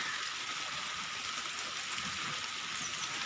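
Light drizzle falling steadily on a rainy morning, a soft continuous hiss of fine drops with no gaps, fairly faint and alone with no voices.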